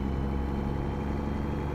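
A Kenworth T680 truck engine in American Truck Simulator drones in a low, steady rumble, heard close and continuous with no other sounds.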